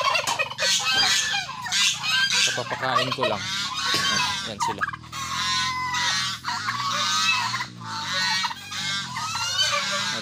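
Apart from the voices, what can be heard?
chickens and geese calling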